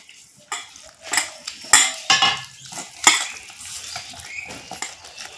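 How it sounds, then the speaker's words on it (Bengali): Flour batter with salt, turmeric and chopped onion being mixed with water in a bowl makes a series of close utensil clinks and wet scraping strokes in an irregular rhythm. "এই ব্যাটারটা আমি জল দিয়ে বানিয়ে নেব"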